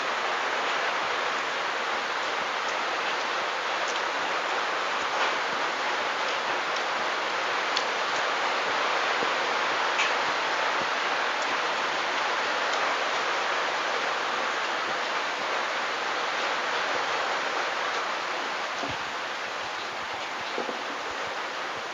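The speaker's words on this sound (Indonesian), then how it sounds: "karena suara hujannya keras sekali, soalnya di rumah saya juga hujannya lagi" Heavy rain pours down steadily at home, a dense, continuous hiss without pause that fills the whole stretch at an even, loud level, with no voices.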